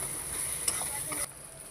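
Tomatoes being stirred in a sizzling pan, a brief steady frying hiss with a soft scrape of the spatula, close by, cutting off abruptly after about a second.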